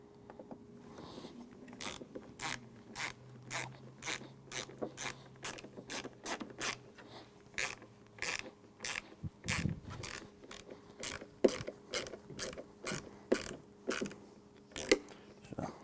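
Screws being driven by hand into a Griot's Garage Ultimate Detailing Cart, heard as a steady run of close, crisp ratcheting clicks with a few short pauses, with no talking.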